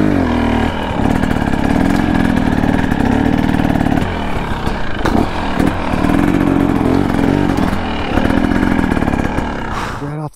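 A dirt bike's engine runs loud and close on a trail, a steady buzzing drone that rises and falls in pitch as the throttle shifts, then cuts off abruptly at the end.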